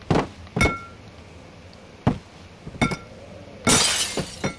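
Several loud glass smashes in the horror game Amnesia: The Dark Descent: sharp breaking hits spread over a few seconds, the last a longer bright shatter with tinkling shards.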